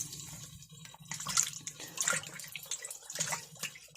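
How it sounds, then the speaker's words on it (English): Coyote hides are rinsed in water with close, irregular sloshing and splashing, several bursts of dripping and swishing over a low background hum. "I'll pull them out, rinse them again."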